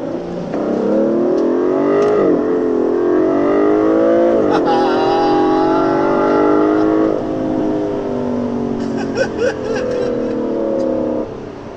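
A 12-cylinder car engine at the Nürburgring revs loud and close in several rising pulls, its pitch climbing and dropping between them, while someone talks over it.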